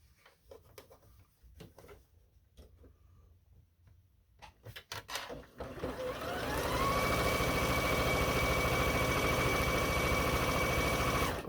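A sewing machine stitches quilting fabric strips end to end. Soft clicks and handling come first, then the motor spins up into a loud, steady whirring hum that holds to the end.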